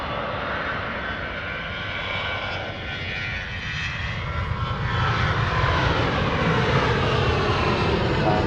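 Jet2 Airbus A321 airliner engines roaring at Manchester Airport, a loud continuous broadband rumble that swells louder in the second half, with no voices.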